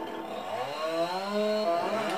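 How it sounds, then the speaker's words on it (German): A chainsaw in Farming Simulator 19 drones steadily at moderate volume, its pitch rising slightly as it bites into wood, with no talking. "Und jetzt säge ich das mal ab."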